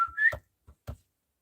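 A person whistles indoors with one rising tone that slides upward, then stops. Two short, faint breathy sounds follow before silence.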